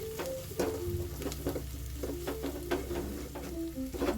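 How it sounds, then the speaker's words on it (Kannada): Coriander powder and spices frying in oil with steady sizzling, while a spoon stirs and scrapes the pan in repeated strokes, close and clear with no talking. "ಇನ್ನು ಇವಾಗ ಎಣ್ಣೆಲೆ ಫ್ರೈ ಮಾಡ್ಕೊಳ್ಳೋಣ"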